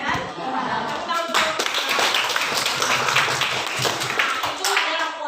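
Pupils clapping their hands together in an Islamic studies class, a dense, steady patter of many small claps under a murmur of young voices throughout.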